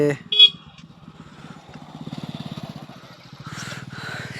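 A motorcycle ridden to a farm field, its engine putting out a steady pulsing rumble that swells and fades, with a short higher tone near the start.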